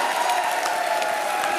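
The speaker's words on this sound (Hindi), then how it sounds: "ठोका ताली भाई।" A studio audience on a comedy show applauds in a steady, even burst of clapping, with a faint constant tone running underneath.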